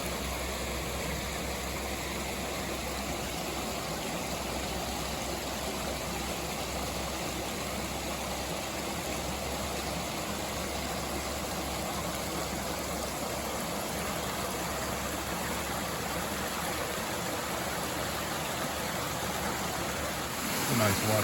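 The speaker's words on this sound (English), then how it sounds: "It's a nice waterfall." Steady, unbroken rush of a waterfall and brook beside a bridge on the Appalachian Trail, the water emptying into Kent Pond; a close, even roar holds without pause throughout, with no voices.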